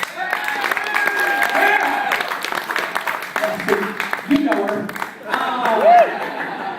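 Audience applause and scattered cheers at a stand-up comedy show break out in bursts, moderately loud, mixed with a comedian and audience members talking over and between the clapping.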